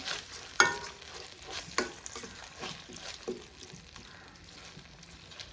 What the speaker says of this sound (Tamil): லோ ஃப்ளேம்லேயே வந்து முடிஞ்ச அளவுக்கு கிளறி விடுங்க